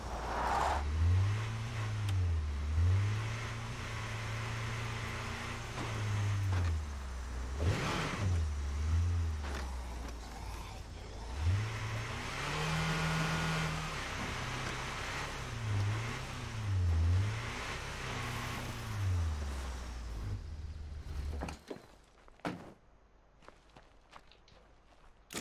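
A car driving in the video game State of Decay 2, its engine rising and falling in repeated revving sweeps over a rough, rumbling drive, then dropping away near the end as the engine settles and clunks.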